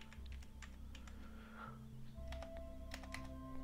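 Someone types steadily on a computer keyboard, a quiet run of scattered key clicks over a low background hum.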